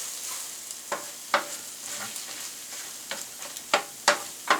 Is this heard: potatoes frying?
yes